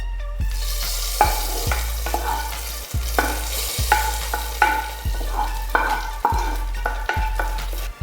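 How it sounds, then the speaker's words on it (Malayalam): Sizzling tempering of browned small onions is poured into green gram curry, then a spoon stirs it in repeated, evenly spaced scraping strokes over a steady frying hiss, close and fairly loud. "ഇനി നമുക്ക് താളിച്ചത് കറിയിലേക്ക് ഒഴിച്ചു കൊടുക്കാം."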